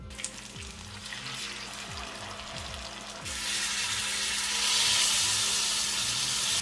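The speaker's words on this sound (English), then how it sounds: "That's what you're going for, a light sizzle." Chicken pieces for peri peri chicken sizzle skin side down in a hot pan. A steady, light frying hiss grows noticeably louder and fuller about halfway through.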